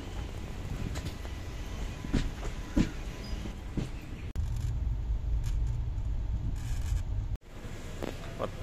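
A passenger train runs in the rain in Kerala, heard from inside the carriage as a steady low rumble with scattered clicks and light rattles, and two abrupt breaks in the noise.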